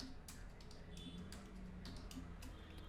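Faint, quick keystrokes on a computer keyboard as VBA code is typed into Excel, a light irregular clatter of taps over a quiet room hiss.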